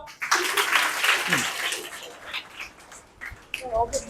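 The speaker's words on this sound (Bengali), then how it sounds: "আর একবার জোরে হাত তালি দাও" Schoolgirls in a classroom clap loudly together, a dense burst of applause through the first two seconds that then thins out, with voices talking in between.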